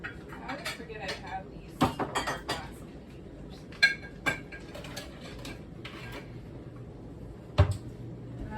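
Square plastic food containers handled in a home kitchen, scattered light clacks and rattles with a few sharper knocks, close by, with a quiet voice underneath.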